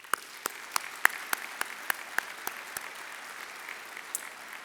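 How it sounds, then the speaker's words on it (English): Scattered claps from a gala audience, a steady round of applause with distinct individual hand claps standing out over a soft wash of clapping throughout. "I'll ask that you join me in a round of applause for them."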